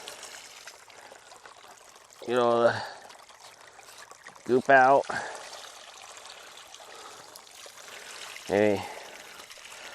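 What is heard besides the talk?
water pouring and trickling while filling a 3D printed sluice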